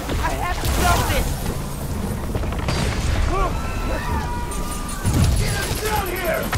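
Explosions and debris rumble through the Marvel's Spider-Man: Miles Morales video game, with repeated deep booms and crashes under raised voices and dialogue.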